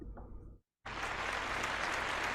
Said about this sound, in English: And a round of applause for Chloe.